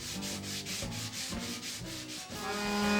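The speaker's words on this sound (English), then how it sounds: "I do a second sanding using finer 220 grit sandpaper" Steady rhythmic scraping of fine 220-grit sandpaper rubbed by hand back and forth over wood, close and continuous, with regular strokes about every half second.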